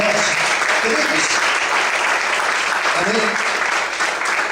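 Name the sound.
church congregation applauding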